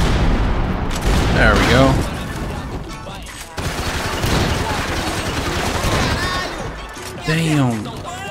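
Gunfire in the video game Max Payne 3 crackles in rapid bursts and single shots throughout, loud and close, mixed with game effects while a player talks over it.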